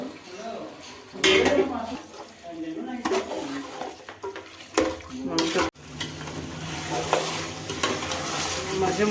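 Meat going into fried spice masala in a pan for a home lunch, with clattering utensil knocks and scrapes, then the sizzle swelling louder and steadier after the meat lands; faint voices underneath.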